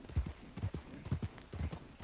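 Horses trotting in the WildRP Western roleplay game, a brisk, even run of muffled hoofbeat clip-clops close by, moderately loud with a faint background hum and no speech.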